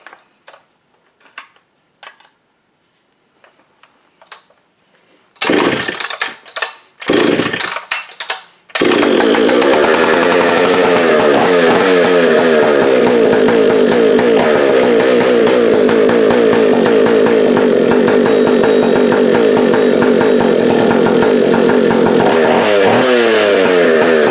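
A Jonsered 920 chainsaw engine sputters through a few failed pulls, catches, then runs loud and steady at close range for a long stretch.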